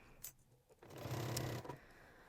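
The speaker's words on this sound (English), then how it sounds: "So we will just sew around the whole edge with a 1 centimeter seam allowance" Sewing machine running a steady stitching burst along a backpack lining seam, loud and close, with a short start-stop before the main run and no talking.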